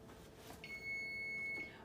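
A single steady electronic beep from a timer set in the kitchen while a frittata egg bake cooks, lasting about a second, moderately loud over a quiet background hum.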